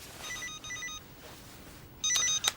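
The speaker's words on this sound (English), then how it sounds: "Oh, is that your phone?" A mobile phone rings in repeated bursts of bright electronic trills, one pattern near the start and a louder, denser burst near the end, with no voices over it.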